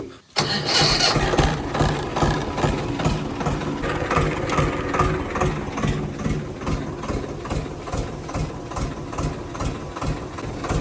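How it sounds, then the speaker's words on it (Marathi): A tractor engine cranks briefly, catches and settles into a steady, loud, rhythmic idle that runs throughout at close range. "पहिले ट्रॅक्टर चालू करू"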